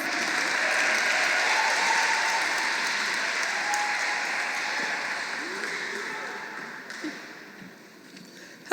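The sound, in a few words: audience applause welcoming a speaker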